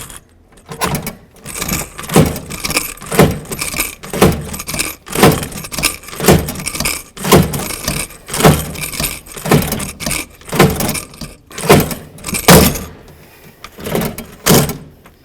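Rivets are set on a door latch assembly of a 1988-2002 GMC Sierra 1500, each stroke of the rivet tool giving a sharp metallic clack in a steady, repeated rhythm, close by and loud, with no voices.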